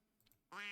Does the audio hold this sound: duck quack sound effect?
yes